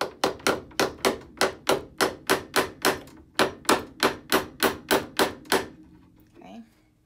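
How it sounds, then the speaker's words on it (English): A hammer drives upholstery tacks into antique furniture, striking about sixteen sharp, evenly spaced blows close to the microphone before stopping, followed by a brief soft rustle. "And then we'll hammer these in."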